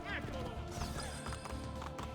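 Horse galloping in the Assassin's Creed II video game, a steady clip-clop of hooves running fast throughout with game sounds and a voice talking over it.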